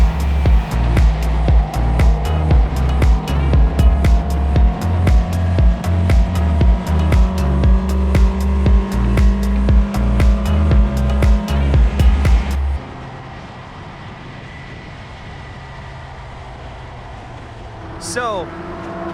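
A Toyota Yaris lapping the Laguna Seca race track, its engine droning loud and close with rhythmic gear-shift pulses. The engine then drops to a quieter hum, and a brief tire squeal comes near the end.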